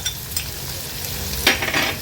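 Finely chopped onion sizzles in hot oil tempered with asafoetida and leaves, a steady close frying hiss with a louder burst of crackling as it goes in and is stirred, no talk.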